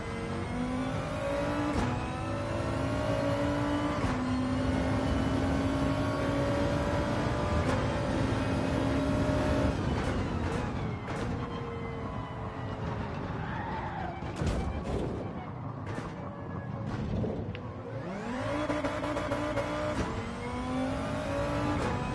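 Audi Group 2 race car in a racing video game, engine roaring loudly and continuously with rising and falling revs through gear changes, tires briefly squealing midway.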